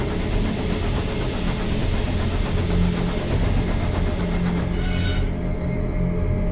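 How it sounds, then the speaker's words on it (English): A steady mechanical steam locomotive rumble from a video game, with a rhythmic chugging texture, continuous and fairly loud, with a brief hiss partway through. "That sounds like a steam engine."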